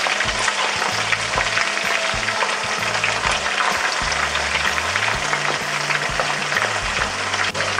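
Meatballs frying in a pan, a continuous dense sizzle with crackling oil, steady and close, with occasional low clunks from the pan.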